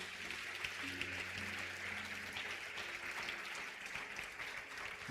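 A church congregation applauds steadily at a low level, the clapping continuous and diffuse over soft sustained keyboard tones.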